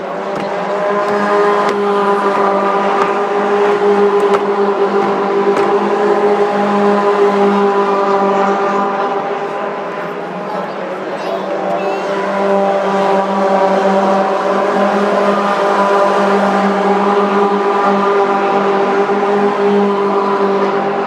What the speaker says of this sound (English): when those cars go by, those engines are loud